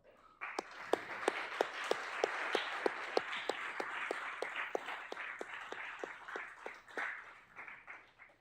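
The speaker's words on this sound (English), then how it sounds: "can I have a round of applause for organizers as well?" Light applause at a Drupal conference session in Vienna for the organizers, with a soft wash of clapping from a modest crowd and a steady, evenly spaced run of louder single claps on top, fading away toward the end.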